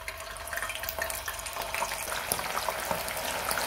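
Paneer cubes fry in hot oil for a veg biryani, giving a continuous, moderately loud hiss and bubbling sizzle with a watery texture and no speech.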